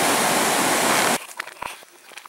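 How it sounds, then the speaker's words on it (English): Fast tidal water rushing through Skookumchuck Narrows in British Columbia, a loud, dense roar for about a second that cuts off abruptly into quieter scattered knocks and handling noise. "a lot of water is going very fast through the area"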